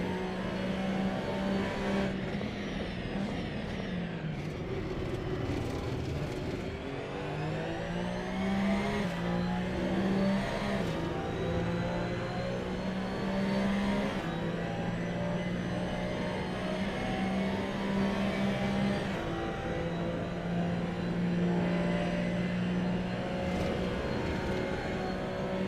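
Porsche Cup race cars roar around the Hockenheimring circuit, engines droning and shifting pitch continuously as several cars run close together, loud and sustained without a break.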